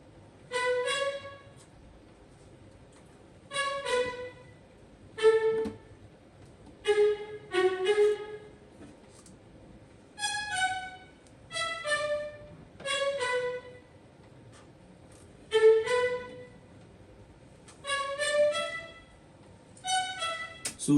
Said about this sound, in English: the string that I added in the second verse sounds like this